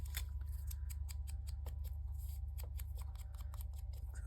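Scissors trim the edges of a paper craft Christmas advent box with a rapid, even series of close, crisp snips at low volume and no talking.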